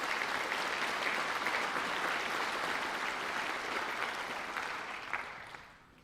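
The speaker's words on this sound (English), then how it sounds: "So please give yourself a round of applause for that." Sustained applause from an audience at a school district convocation, a dense even wash of many hands clapping that holds steady and then tapers off toward the end.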